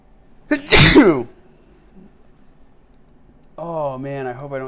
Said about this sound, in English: Oh man, I hope I don't start sneezing.